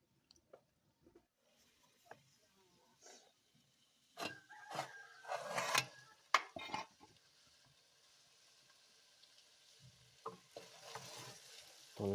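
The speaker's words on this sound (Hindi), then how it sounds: "ये मुर्ग पाए हमारे मसाले के साथ अच्छी तरह पक चुके हैं" Chicken trotters cooking in masala in a pot, stirred with intermittent scraping and soft sizzling, louder bursts of stirring midway and quieter frying between.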